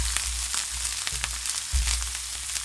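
Onion, garlic and ginger fry in olive oil with a steady, close hiss and crackle, broken by a few soft knocks and stirring sounds and no talk.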